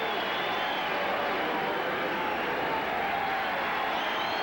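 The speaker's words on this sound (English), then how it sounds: "Some applause for Darrell as he heads back to the dugout." Crowd at Tiger Stadium during Game 5 of the 1987 ALCS between the Twins and Tigers applauds a departing batter, a steady, distant wash of clapping and crowd murmur sustained throughout.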